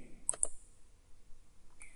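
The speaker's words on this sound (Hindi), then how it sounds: "अब हम नेक्स्ट पे क्लिक कर देते हैं।" Two quick, crisp computer mouse clicks sound close together early on, followed by a faint third click near the end, in a quiet room during software installation.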